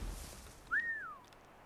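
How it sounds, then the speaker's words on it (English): In Assassin's Creed 3, a character gives a single short whistle to lure a guard, a bright note that rises, holds briefly and slides down, heard alone over a quiet background. "If I could whistle him over."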